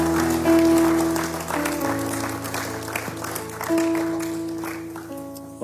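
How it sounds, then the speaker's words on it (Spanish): Church congregation applauding after a prayer in a Spanish-language service, steady clapping over sustained organ or keyboard chords that carry through. "Dele un fuerte aplauso al Señor."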